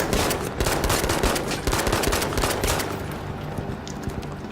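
Rapid P08 pistol fire in a video game at mid-range, a dense burst of sharp, loud shots stacking one after another, then thinning slightly toward the end with no one talking.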